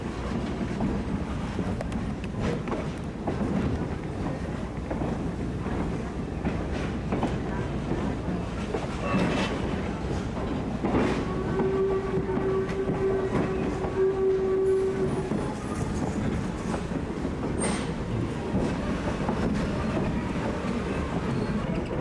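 A Strasburg Rail Road train rumbles steadily along the rails with continuous wheel noise and clatter, a horn-like tone rising midway, and faint voices underneath.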